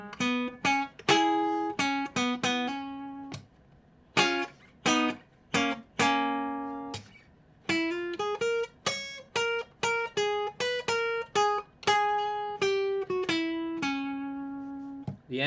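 A guitar plays a song riff alone: a clean run of separate plucked notes in a syncopated rhythm, some short and some held, with brief silences between phrases.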